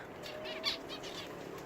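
Zebra finches flap their wings in a small enclosure, a few soft fluttering bursts with one brief sharper flap, faint and close, with no talking.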